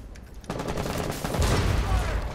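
Loud rapid gunfire erupts in Rainbow Six Siege, a burst of sharp shots building into a heavier volley close by with a hint of voice mixed in.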